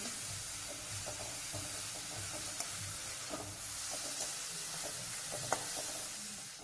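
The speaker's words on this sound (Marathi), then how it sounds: "आता आपण त्यामध्ये मिरची आणि लसणाची वाटण टाकणार आहोत छान असं परतून घेऊ" Chili and garlic paste sautés with tomatoes in a hot pan, giving a steady hissing sizzle with occasional clicks and scrapes from stirring, close and uninterrupted by speech.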